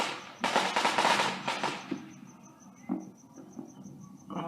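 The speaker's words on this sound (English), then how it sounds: "Now we got multiple sightings of fireworks, folks." Fourth of July fireworks and firecrackers popping in a dense crackling burst, followed by scattered distant bangs, while crickets and an alarm-like tone carry on faintly behind them.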